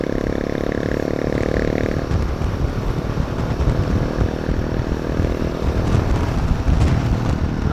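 A motorcycle ridden along a road on a Sunday trail ride near Bangalore, heard as a loud, steady engine drone close by that holds for the whole stretch with no voices.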